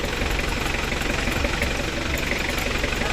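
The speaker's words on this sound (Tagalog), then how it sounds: "One quick start yan. Ayan ah. Diesel engine yan." A Mitsubishi L200 pickup's diesel engine idles close by with a loud, even, clattering rumble and a constant knocking rhythm throughout.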